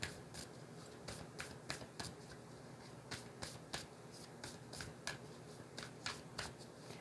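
Tarot cards are shuffled and drawn in a quiet room, giving a string of crisp, close riffling snaps and slaps in quick irregular bursts, with no talking.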